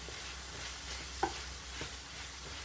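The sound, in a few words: squash with chicken breast frying in pan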